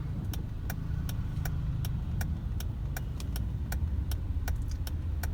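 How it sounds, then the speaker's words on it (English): A Honda City ZX car creeps up a steep slope in first gear without throttle, its engine giving a low, steady hum heard from nearby with faint periodic ticking and no talk. "I am just removing the clutch and moving the car ahead."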